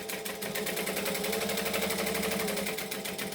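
A sewing machine runs continuously at a steady fast pace, top stitching a penny pouch at a long stitch length, close and loud with no talk.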